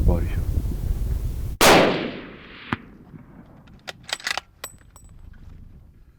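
Hunting rifle shot at game about 280 yards away, with bonded bullets: one sharp, loud crack followed by a rolling echo, then quiet outdoor ambience with a few faint clicks and taps.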